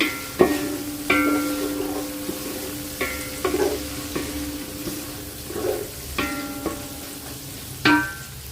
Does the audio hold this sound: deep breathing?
no